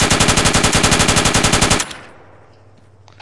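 Arma 3 military game gunfire: a fast, loud machine-gun burst of evenly spaced shots that stops abruptly, leaving a quieter low rumble and faint ambience afterward.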